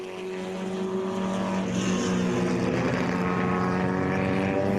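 Race cars rise in a steady engine drone on the track at Redstar Raceway, the sound swelling louder as they approach and holding a sustained, mid-distance roar throughout.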